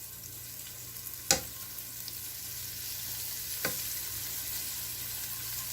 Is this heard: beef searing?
yes